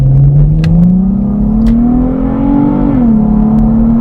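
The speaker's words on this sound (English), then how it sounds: "So let's see what happens if we try and do a hasty pull-out." Nissan Stagea 280 bhp automatic family wagon makes a hasty pull-out from inside the cabin, its engine droning loud and close, rising steadily in pitch before a brief dip as it shifts, with no talking.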